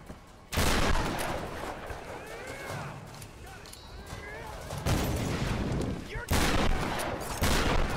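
Gunfire in the video game Tomb Raider Definitive Edition: loud, sustained bursts of shooting with booming impacts, broken by brief lulls. A player's voice talks over the action.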